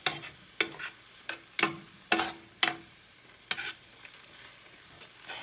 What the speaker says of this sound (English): you probably want to saute the onion